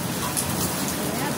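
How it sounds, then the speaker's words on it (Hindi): Heavy rain in Lucknow, India pours down in a steady, dense hiss that stays even and continuous throughout, close and enveloping. "जबरदस्त बारिश है।"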